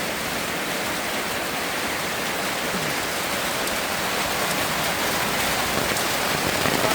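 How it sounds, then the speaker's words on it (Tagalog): Heavy typhoon rain pours in a steady, dense roar, a continuous broadband wash of drops hammering surfaces nearby with no break and no voices. "Sa kakusog sa ulan."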